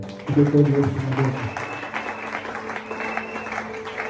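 A congregation claps in acclamation of Jesus during a church service. Loud, dense clapping rises early over a sung, tonal backdrop, then carries on as a steadier, slightly softer wash of applause.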